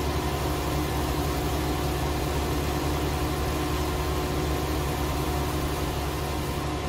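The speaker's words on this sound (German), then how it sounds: "Der neue Traktor wird auch schneller." A tractor engine in Farming Simulator 19 drones steadily and loudly throughout, a constant mid-to-low mechanical hum with broad noise and no pauses, heard alone without any talk.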